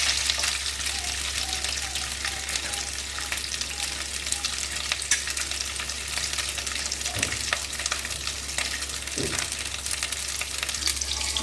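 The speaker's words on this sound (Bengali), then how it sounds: "এবার তার মধ্যে কুচনো নারকেলগুলো ভেজে নেব একটু লাল করে ভেজে নেবো" Steady crackling sizzle of chopped coconut frying in hot oil, continuous and close, with occasional faint stirring knocks.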